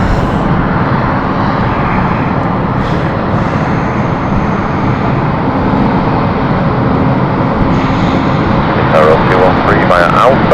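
An ITA Airways passenger jet bound for Rome at London City Airport, its engines giving a loud, steady roar that holds throughout and swells slightly toward the end, with talk over the top.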